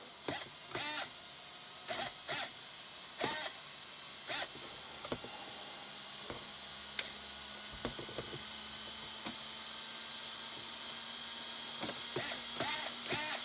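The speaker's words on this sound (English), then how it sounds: "Plenty of power from that servo." The steering servo on a Hobao Hyper7 electric RC car whirs in a series of short mechanical bursts as it turns the wheels back and forth, close by over a faint steady background hum.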